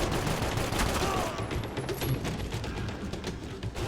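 Rapid blind-fire gunshots from the video game Max Payne 3 form a dense, loud, continuous barrage of bursts with a steady roar of gunfire throughout; a voice talks faintly under it at times.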